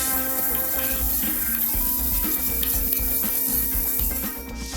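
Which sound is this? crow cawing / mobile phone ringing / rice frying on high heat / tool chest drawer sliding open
rice frying on high heat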